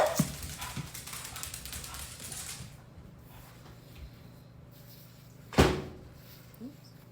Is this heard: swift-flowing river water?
no